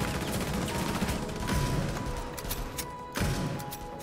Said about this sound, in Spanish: Kali con este rifle francotirador de gran calibre rompe de un solo disparo tanto barricadas, ya sean puertas o ventanas.